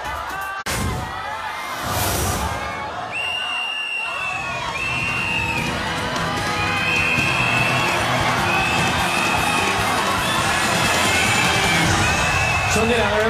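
A large studio audience at a televised singing competition claps and cheers in a dense, sustained roar, with whoops and shouts rising over it as an announcer's voice carries through.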